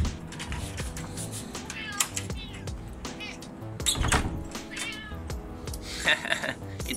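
A cat meows close by, several short calls mixed with background music and household noise, with a person speaking at times.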